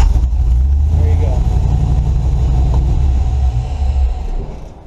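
A car engine with a Holley Terminator X system idles close by, a loud steady low rumble that holds even, then fades toward the end, with talk over it.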